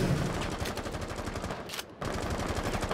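Rapid automatic weapon fire in the shooter game Rainbow Six Siege, a dense continuous burst of loud shots that cuts out briefly near the two-second mark and then resumes, with no talking.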